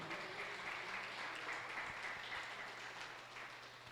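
Congregation applauding during an online Sunday communion church service, a steady wash of clapping sustained at moderate level throughout with a faint low hum underneath and no talking.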